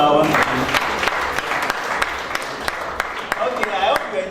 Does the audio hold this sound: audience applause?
yes